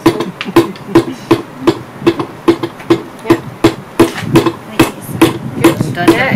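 Hand hammer blows striking metal in a metal workshop, a steady series of sharp, loud ringing impacts about two per second, close up, with faint talk in the background.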